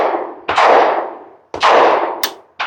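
Two loud, close shotgun blasts from a Charles Daly 101 folding single-shot fitted with a .45 ACP rifled-bore adapter, each a sharp crack followed by a ringing decay about a second apart, with a brief metallic clink between.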